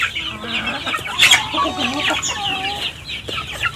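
Several free-range chickens clucking and chattering close by, overlapping calls in a busy, continuous farmyard flock.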